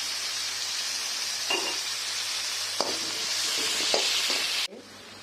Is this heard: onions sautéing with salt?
yes